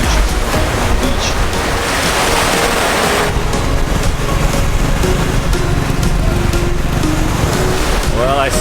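Waves washing steadily onto a beach strewn with jellyfish, a constant loud roar of surf mixed with wind buffeting the microphone, and a faint voice near the end.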